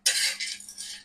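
Turmeric frying in hot oil for a homemade Maharashtrian spice mix is stirred with a spoon, making a close, hissing sizzle broken into three quick scraping strokes with no voice.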